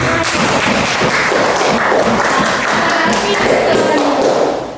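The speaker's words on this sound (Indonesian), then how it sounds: "Baik anak-anak sekalian, tepuk tangan dulu buat Alfi." Children clapping together in a classroom, a dense, continuous burst of applause that stays loud and steady for several seconds before tapering off at the end.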